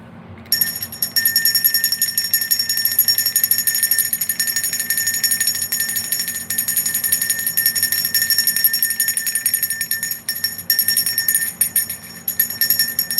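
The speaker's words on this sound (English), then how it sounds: "I'm going to ring to bell." A bell is struck and left ringing, a sustained high metallic tone that hums on steadily for many seconds with faint shimmering overtones and a low background drone, with no talking.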